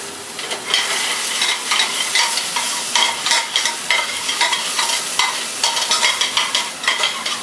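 Shallots sweat in a hot pan over a burner running hotter than wanted, producing a continuous bright sizzle with pulsing stirring scrapes, close and fairly loud, with no voices.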